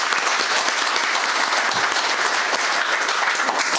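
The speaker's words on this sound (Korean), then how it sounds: "여러분 박수 한번 쳐주시죠." Dense, steady applause from a large forum audience fills the whole stretch, loud and continuous with no voices over it.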